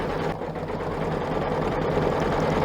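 A home embroidery machine stitches all around a recycled denim zippered pouch held in the hoop, giving a steady, close, continuous mechanical whir with a fast repetitive needle rhythm and no talk.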